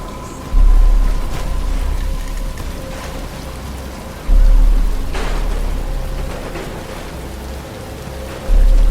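Rain falls in a Batman Arkham Asylum game scene, a loud, steady downpour that swells in three heavy surges like rolling thunder, with faint tonal hum beneath.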